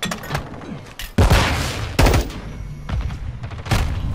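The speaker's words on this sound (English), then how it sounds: "I can hear the gunshots." Gunfire in Call of Duty Modern Warfare II multiplayer: a few loud, close shots and bursts with booming impacts, separated by brief gaps.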